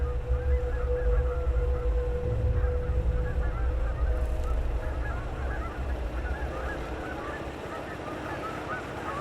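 Many geese honk continuously at a distance over a steady low rumble, their calls overlapping in a busy, chattering chorus.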